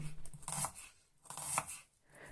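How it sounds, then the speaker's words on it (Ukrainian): A knife slices red onion into thin half-rings in two or three soft, crisp strokes against a cutting board, close and quiet. "Червону цибулю нарізаю тоненькими півкільцями."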